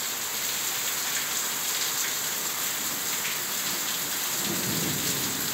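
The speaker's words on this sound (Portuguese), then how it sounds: "E trovões, olha aí, pessoal." Heavy tropical rainstorm in Ribeira do Pombal, Bahia, a loud continuous hiss of downpour with low thunder rumbling beneath it throughout, no voices.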